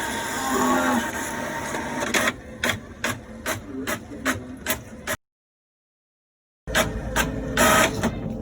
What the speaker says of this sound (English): Oh no! It's not printing right.